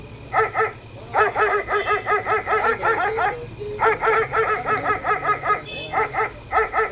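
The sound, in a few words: dogs barking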